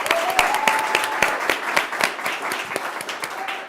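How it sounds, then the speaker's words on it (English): Audience applauding a speaker at a business success event, dense sustained clapping with sharp individual claps standing out, steady and fairly loud throughout. "Let's give her a round of applause."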